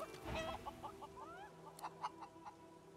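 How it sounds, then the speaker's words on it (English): Chickens cluck in Divinity: Original Sin 2, a quiet run of short, rhythmic clucks and a few higher squawks over faint background music. "I hear chicken."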